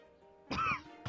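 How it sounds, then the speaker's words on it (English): One harsh throat-clearing cough from a man, followed by a second brief cough burst, close and clear against a quiet room tone. "I think he's coughing too much to answer."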